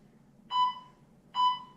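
An exercise class buzzer beeps twice, two short, clear electronic tones about a second apart against a quiet background.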